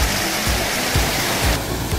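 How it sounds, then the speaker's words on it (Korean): Steady, loud rushing roar of Sueok waterfall in Korea, a continuous broadband wash of falling water filling the whole clip with no voices. "여기 수억폭포인데 상부부터 쭉 훑어보겠습니다"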